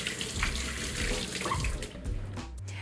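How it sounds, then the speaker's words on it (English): Running water pours steadily from a kitchen tap as hands are washed beneath it, a close, continuous splashing gush with small shifts as the hands move through the stream. "Wash my hands."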